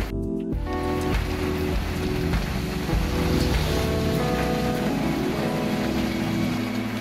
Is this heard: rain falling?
yes